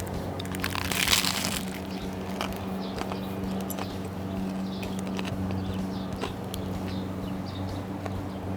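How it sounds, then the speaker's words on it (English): Biting into a crunchy sourdough pizza bread sub baked in an Ooni Pro oven: a sharp crunch near the start, then faint chewing against a steady low background hum, with no talking. "Listen to that crunch, baby."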